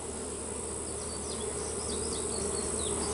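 Russian honey bees swarm around an opened hive, a dense close buzzing hum with individual wingbeats flickering past the microphone.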